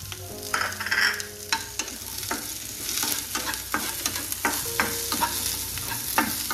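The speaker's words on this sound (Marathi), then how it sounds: "मी कांद्यामध्येच हे लसूण छान असं भाजून घेणार आहे।" Onion and garlic frying together in a pan while being stirred, a continuous close sizzle with frequent scraping strokes of a spoon across the pan surface, no voices present.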